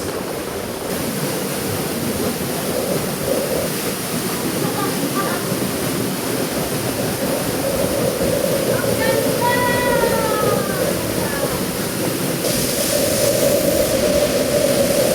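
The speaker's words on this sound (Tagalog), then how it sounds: "Wow na wow ang falls." A waterfall pours in a constant broad rush, steady and close for the whole stretch, with people talking and calling out over the roar.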